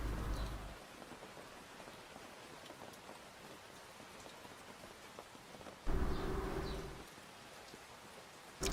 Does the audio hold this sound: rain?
yes